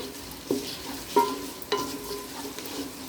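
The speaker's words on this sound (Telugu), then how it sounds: "ఇప్పుడు లాస్ట్లో జీలకర్ర జీలకర్ర త్వరగా వేగుతుంది కదా అందుకని లాస్ట్లో యాడ్ చేస్తున్నాను ఒకసారి మిక్స్ చేసుకుందాం" Cumin seeds fry in hot tempering oil while a spoon stirs, a soft low sizzle broken by three or four sharp metallic scrapes and clinks.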